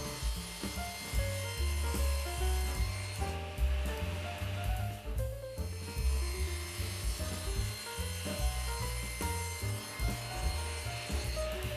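Wooden panel of a subwoofer enclosure being cut by hand, a rhythmic rasping saw stroke repeating close up and fairly loud, with no talking.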